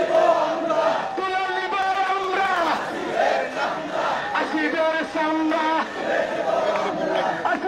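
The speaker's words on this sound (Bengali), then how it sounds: "দেখতে পাচ্ছেন বা শুনতে পাচ্ছেন যে স্লোগান দিচ্ছে তারা।" Street protest crowd chanting slogans in unison, loud and close, a sustained rhythmic mass of voices filling the whole stretch with only brief dips between phrases.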